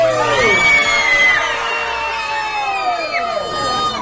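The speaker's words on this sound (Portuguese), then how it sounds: "Quem tá feliz aqui, dá um grito!" Crowd of adults and children at an outdoor Christmas lights switch-on in Lagoa Formosa, shouting and cheering together in a loud, sustained roar with whoops, answering a host's call to shout.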